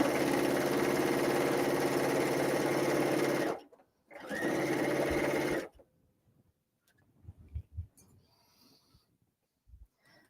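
A sewing machine runs a half-inch seam on an insulated tea cozy with batting, a loud close motor whir for several seconds, a brief stop, another short burst, then soft handling clicks and thumps.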